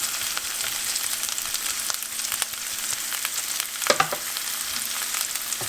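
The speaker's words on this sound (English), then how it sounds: "So we're going to add the green beans in." Green beans sizzle steadily in a hot pan, giving a close, even hiss and crackle throughout. A brief clatter comes midway.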